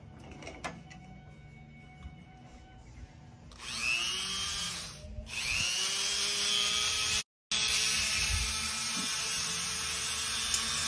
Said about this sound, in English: Also, we got a new Dremel tool.